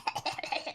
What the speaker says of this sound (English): Cough, cough. She coughs.